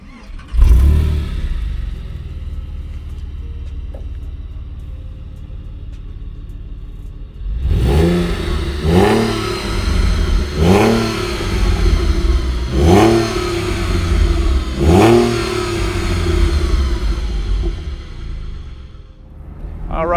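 A 2006 Porsche 911 Carrera Cabriolet engine cranks and catches, then revs hard several times in quick succession, loud and close, each blip rising and falling sharply.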